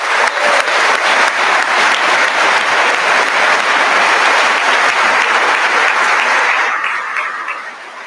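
A large audience at a university State of the University address applauds staff members, a dense, loud, steady wash of clapping that slowly fades at the end.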